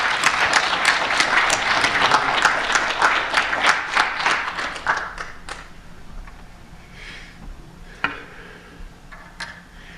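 An audience welcoming Father Mark Miller to a lecture on Catholic moral theology breaks into loud, sustained clapping that thins out and fades after about five seconds, leaving a quiet room with a few stray taps.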